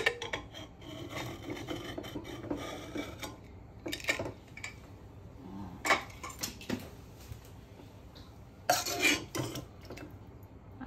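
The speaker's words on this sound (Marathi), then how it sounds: "तर आपण कुकर ओपन करून बघूया" Metal scraping, clinks and rubbing as a home pressure cooker holding cooked vajadi is opened after its steam has fully escaped, with sharp clanks of the lid standing out from the quieter handling noise.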